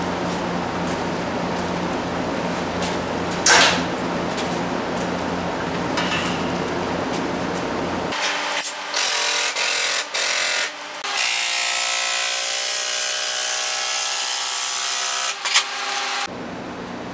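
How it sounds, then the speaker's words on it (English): An HF winch motor raises a lift: after a stretch of low background hum, a steady mechanical whine starts up close, runs evenly for several seconds, then cuts off. "I'm going to raise the lift back up."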